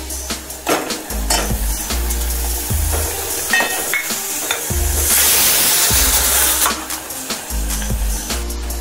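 Tomatoes frying in a pan with onions and curry leaves, a continuous loud sizzle with repeated scraping stirs and clinks of a spatula against the pan, and a surge of hissing partway through.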